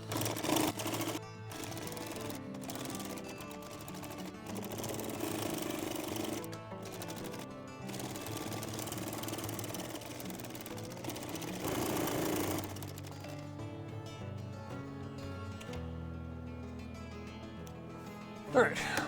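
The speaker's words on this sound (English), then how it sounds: "Now we're going to go ahead and put it through the sewing machine." A sewing machine runs a back stitch and then stitches forward while sewing a firewood sling. Its steady mechanical whirring continues close by for most of the stretch, with brief pauses and shifts in speed.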